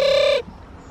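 A pet owl gives a short, bright tonal call lasting under half a second, close and fairly loud, then stops abruptly into quiet room ambience.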